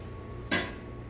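A plate is set down over a pan of kimchi cheese potato pancake cooking on low heat, giving a single sharp ceramic-on-metal clink that rings briefly against a quiet background hum.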